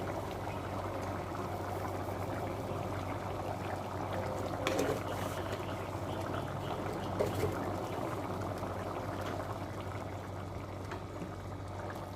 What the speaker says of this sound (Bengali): ফুটে উঠুক, হয়ে গেছে, ফুটে গেছে।